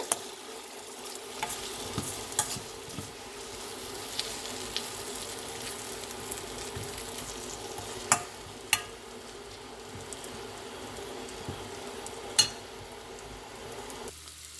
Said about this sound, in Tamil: கருவேப்பிலையும் போட்டு திருப்பி விடுவோம்